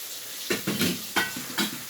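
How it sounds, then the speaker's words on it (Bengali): Bitter gourd, eggplant and potato fry in a pan, with a steady sizzle broken by four short bursts of stirring or scraping, close and moderately loud, with no talk. "এখানে আমি করলা, বেগুন, আলু দিয়ে ভাজা করছি সেদ্ধ মতো"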